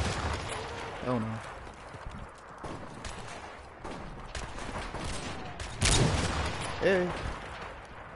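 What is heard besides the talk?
gunfire in video game Modern Warfare Remastered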